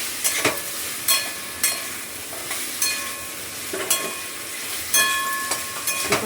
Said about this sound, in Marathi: जरासं परतून घ्यायचं ते जे टमाटा आणि आपण काश्मीर पावडर घातली त्यासोबत.